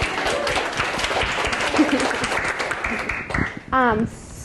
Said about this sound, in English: Let's give a round of applause for Courtney